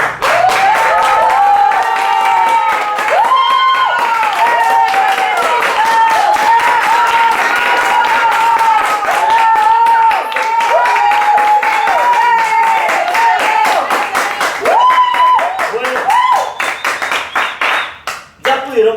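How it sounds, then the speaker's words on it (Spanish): Audience at a storytelling event giving a strong round of applause for the storyteller, dense clapping running throughout, with singing or cheering voices rising above it before the clapping thins to scattered claps at the end. "Un fuerte aplauso para él."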